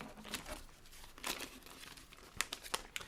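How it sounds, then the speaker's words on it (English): Scissors cut away excess vinyl in a Cricut craft project, producing faint, close crinkling and snipping sounds in short irregular bursts, with a quick cluster of sharper snips near the end. "We're going to take our scissors and kind of cut the excess off"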